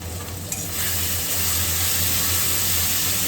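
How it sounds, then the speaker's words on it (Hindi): Spice masala of chili powder and salt frying in oil in a pan for jackfruit curry, a loud, steady hiss and sizzle with soft scraping from stirring, close up and without talk. "इसे अच्छी तरह से भूनिए"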